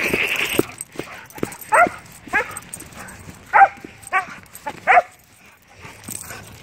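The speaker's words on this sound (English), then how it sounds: "Yeah, yeah, you're a tough dog, aren't you?" An excited dog at home before a walk lets out several short yips and barks mixed with whimpers, coming in close, uneven bursts with quiet gaps between them.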